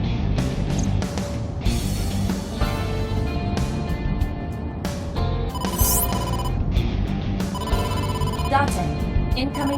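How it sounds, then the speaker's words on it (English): An incoming phone call rings in AI: The Somnium Files, a repeating electronic ringtone with bright tonal chimes, loud and continuous, under and between steady talking. "incoming call from the boss"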